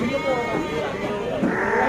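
Rams bleat at a busy livestock market, a sustained wavering bleat up close with another cry rising near the end, and crowd chatter running underneath.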